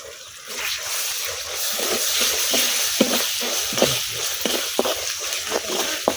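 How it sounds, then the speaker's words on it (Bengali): Sliced onions fry with ginger-garlic paste in a pan, a steady close sizzle broken by repeated scraping stirs that come at a roughly even rhythm. "এখন পেঁয়াজের সাথে আদা রসুন বাটাটা কিছুক্ষণ ভাজা নেন"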